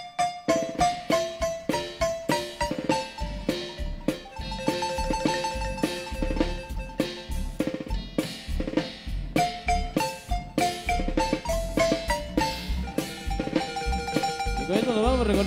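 Sentimental marimba orchestra music from Guatemala, rendered as a steady melodic piece with rhythmic struck-bar notes and bass accompaniment, played continuously and fairly loud throughout with no one talking.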